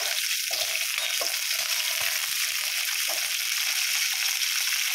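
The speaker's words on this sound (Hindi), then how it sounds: "अब इसे मीडियम फ्लेम में फ्राई करेंगे।" Cauliflower frying over a medium flame in a kadhai, giving a loud, continuous crackling sizzle with a few soft stirring knocks, close and without speech.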